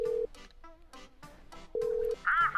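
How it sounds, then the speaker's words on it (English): Telephone keypad tones beeping in short bursts with gaps between them, one steady tone near the start and another midway, followed by a brief louder ringing-like chirp at the end, fairly close and clear with no talking. "I got to dial the phone."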